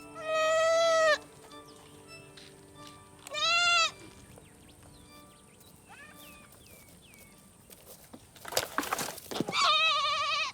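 A young goat kid bleats loudly for its mother in two long wavering calls, followed by quieter rustling and bird-like chirps, then a noisy burst and a final bleat near the end.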